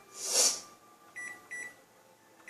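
A kitchen timer on a microwave beeps as it is set for 19 minutes while cooking chicken and rice, a quick press chirp followed by three short, bright, close beeps at even intervals.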